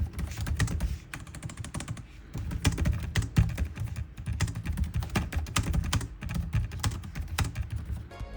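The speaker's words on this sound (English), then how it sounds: "Noise from the keys feature a sort of dampening sound to them" Rapid typing on a Gigabyte Gaming A16 laptop keyboard, with dense, muted, dampened key clicks in a continuous rhythm, close up and with no talking.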